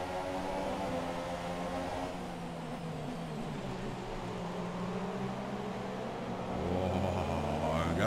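A Red Bull Formula 1 car races in the F1 2017 video game, its engine a continuous high-pitched whine at steady revs that rises and grows louder near the end, with a voice faintly talking over it.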